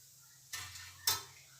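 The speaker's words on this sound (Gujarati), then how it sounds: "એના અવાજ પરથી જ તમને ખબર પડશે કે ઉપરથી કેવા સરસ ક્રિસ્પી થયા છે." Crispy fried moong dal vadas set down on a plate, giving two short, crisp clatters about half a second apart, each fading quickly into a quiet kitchen background.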